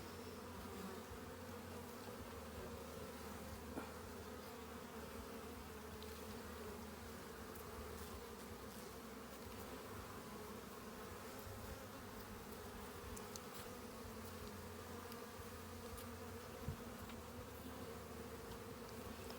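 Honeybees buzz in a dense, steady drone during a smoked hive inspection at an apiary in Ballachulish in June, holding close and even throughout with no voices.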